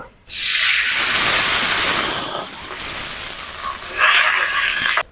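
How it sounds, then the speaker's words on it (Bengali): Water is poured into a hot pan of fried onions and chilies on a clay stove, bursting into a loud, close hiss that fades slightly and then surges again before cutting off. "এখন একটু সামান্য পানি দিয়ে দিব"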